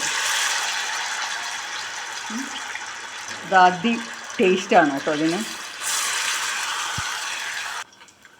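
Aval (flattened rice) vada frying in hot oil, giving a steady broadband sizzle that fades briefly while someone talks, then returns before cutting off near the end.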